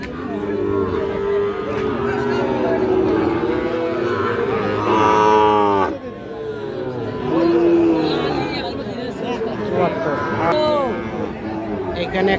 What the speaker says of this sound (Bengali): এখানে একটা শাহিওয়াল ষাঁড় বাচ্চা দেখছি।